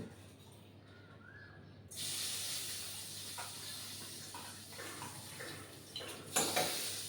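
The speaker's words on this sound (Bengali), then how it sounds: "আমি এই যে কালো জিরে নিয়েছি, এই কালো জিরেটা ফোড়ন দেব" Black cumin seeds hit hot oil for tempering, setting off a sudden loud hiss that stays steady and close, with a few scrapes and clinks near the end and no talk.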